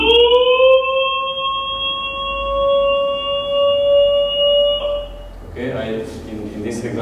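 A Chant synthesizer voice holds a steady harmonic tone whose pitch glides slowly between two set fundamental values for about five seconds, then fades as a person starts talking.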